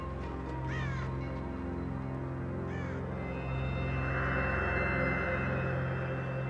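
A raven in Bhutan gives two harsh, croaking caws about two seconds apart, heard over a steady low background hum and wind-like hiss.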